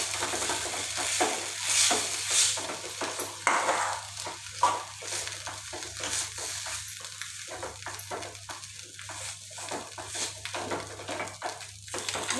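Cooked bhagar and banana being stirred together in a pan for a fasting shira, with steady soft scraping and gentle sizzling patter continuing throughout, fairly quiet and close.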